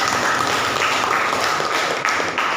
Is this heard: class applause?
yes